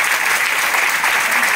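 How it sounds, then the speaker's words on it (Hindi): Steady, dense applause from a seated audience at a business product presentation, filling the whole moment at close range with no pauses or voices standing out. "थैंक यू वेरी मच, जोरदार तालियां अपने लिए"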